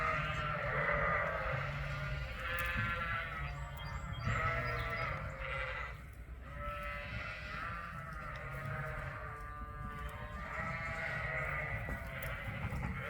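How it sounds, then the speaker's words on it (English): Lambs bleating outdoors in a paddock on a working sheep farm, several overlapping calls repeating throughout at moderate distance over steady low outdoor ambience. "We have a few lambs still outside, having some last minute frolics in the paddock."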